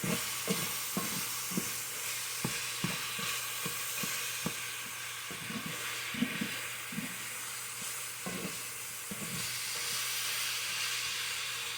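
Hamburger meat seasoned with garlic and onion powder fries in a pan on the stove, giving a constant soft sizzle broken by regular spoon taps and scrapes as it is stirred.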